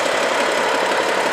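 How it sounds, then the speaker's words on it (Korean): A used car's engine idles right after starting, a steady, even rumble that holds at a constant level throughout with no breaks or surges. "분명히 이 엔진 필링이 충분히 괜찮은 상태예요."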